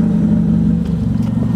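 A steady, close-up engine rumble with a low droning exhaust note, loud and continuous with slight fluctuations, no voices.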